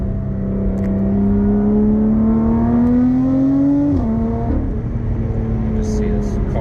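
A 2021 Lotus Evora GT with carbon pack and Cup 2 tires accelerates in sport mode, its engine note climbing steadily, then dropping sharply on a downshift before pulling again, loud and close from inside the cabin.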